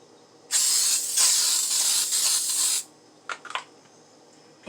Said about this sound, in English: add our non-stick spray.